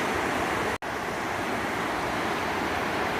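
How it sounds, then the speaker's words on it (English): A river flowing beneath the Ten Mile River bridge on the Appalachian Trail, a steady broadband rushing roar, close and constant, with one momentary dropout. "It's been a long time since we've heard or seen a river like this."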